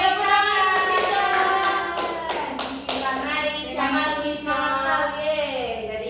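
Children at a school breakfast-awareness session clap their hands in a quick burst of sharp claps, heard alongside bright, sustained singing or chanting voices throughout.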